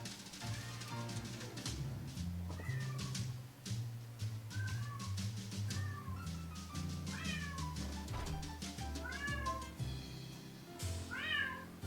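A cat meows repeatedly in Tales of Xillia 2, a series of rising, drawn-out mews spaced every second or so over a low game music bed.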